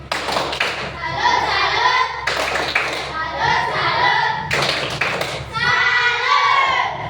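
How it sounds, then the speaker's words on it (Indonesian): A classroom of students gives a group presentation rhythmic patterned clapping, a salute clap routine in bursts with thumps and taps, while children's voices chatter between the rounds. "Ya, kasih aplaus"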